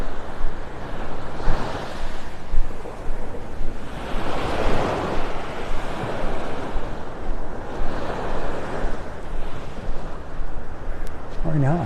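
Wind gusts and surf wash on a beach in North Naples, Florida, with waves swelling and breaking in slow cycles and steady buffeting wind noise on the microphone.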